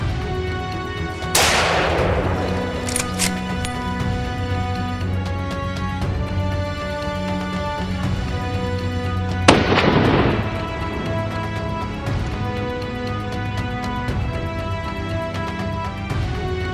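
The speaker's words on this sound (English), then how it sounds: "On the high hill, gunshots rang out continuously." Gunfire on a high hill, two sharp booming shots spaced well apart, each with a long rolling echo, heard over a steady, dense background of ambient noise.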